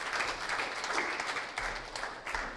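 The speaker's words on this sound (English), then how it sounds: "I want to conclude with a great applaud to our panelists" An audience applauds panelists at the close of a panel discussion, dense steady clapping from a crowd that holds moderately loud for a few seconds.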